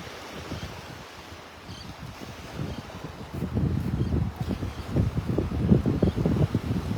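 Gusts of wind buffet the microphone on a beach in North Naples, Florida, a steady low rumble with surf that swells louder in the second half; no one speaks.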